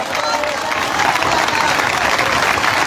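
A church congregation applauds at a worship service in Puerto Rico, a dense, steady wash of clapping filling the whole stretch at close range, with crowd noise mixed in.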